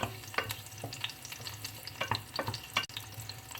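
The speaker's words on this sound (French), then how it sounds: "On va juste faire ramollir légèrement les oignons, l'ail, pardon." Garlic softening in hot oil in a pan for a quick shrimp puff pastry dish, a quiet sizzle broken by repeated stirring scrapes and clicks, with no talking.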